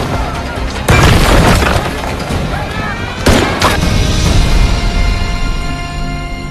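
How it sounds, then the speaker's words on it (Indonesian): A film explosion blows apart a prison wall, a loud deep boom with crashing debris, followed by a second blast and lingering rumble, close and powerful. "Bishop berencana untuk kabur dengan meledakkan tembok yang ada di sana."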